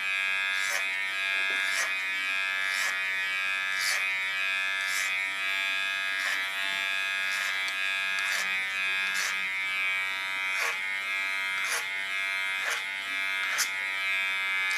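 An electric hair clipper buzzes steadily and closely throughout while cutting an ultra-short pixie haircut, with a hum that varies slightly and faint rhythmic pulses as it moves through the hair.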